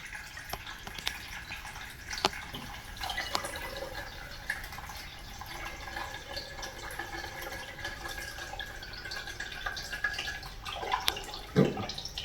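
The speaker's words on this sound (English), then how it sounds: "I'm gonna just take this and pour it right into this jar." Prickly pear juice trickles through cheesecloth into a glass jar, a quiet steady liquid pour with faint drips and splashes that brighten near the end, no talking.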